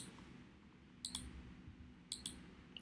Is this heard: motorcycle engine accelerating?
no